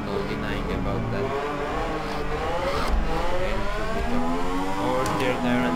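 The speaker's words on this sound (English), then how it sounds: "it's definitely still a very, very good sounding car" A Ferrari race car in Assetto Corsa revs hard and steadily, its engine note sweeping up and down through gear changes, loud and sustained throughout with a voice talking over it.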